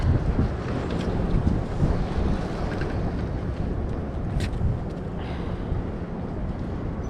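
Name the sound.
strong wind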